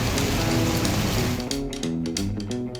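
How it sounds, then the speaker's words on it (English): Rain in a Peppa Pig cartoon falls as a dense, steady hiss, loud and continuous, mixed with soft background music that thins out toward the end. "It's raining outside."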